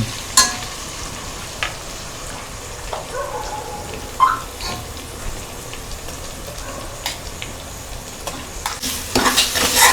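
Ground masala paste going into mutton frying in a pan for a dry Agri-style sukka, with steady sizzling under scattered stirring scrapes and light clinks of a spoon against the pot, growing busier toward the end.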